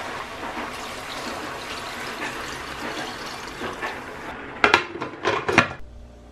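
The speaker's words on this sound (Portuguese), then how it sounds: "vou jogar as batatas aqui. Cobrir um pouquinho de água." Potatoes tipped into a pot of water for boiling, heard as a few close splashy clatters and plops near the end after steady kitchen background noise.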